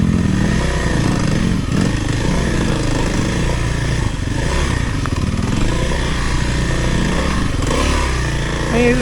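A Kawasaki KLX300R dirt bike's single-cylinder engine chugs and revs steadily while the rider climbs over rough terrain, loud and close throughout, with rattling and clatter over the continuous engine drone.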